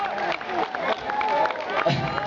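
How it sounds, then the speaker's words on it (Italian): Cheering and applause from a summer evening crowd at an outdoor show in Novi Ligure, Italy, a dense close wash of voices and clapping that swells throughout. "Ragazzi, facciamo un applauso"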